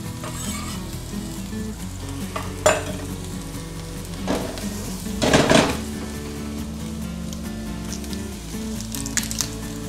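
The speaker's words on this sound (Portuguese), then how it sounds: "Vamos começar salteando a cebola." Chopped onion sizzling in olive oil in a frying pan, a constant close frying hiss with a few louder bursts of stirring and clinks of a utensil against the pan, no speech.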